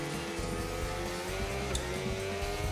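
Formula 1 car engine in a racing video game, a continuous loud engine drone with shifting pitch and a brief click midway, no talking.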